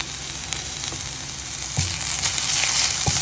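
Masala sautés in a pan with a loud, continuous sizzle, broken by a few short scrapes or stirs. The frying carries through to the end with no voices.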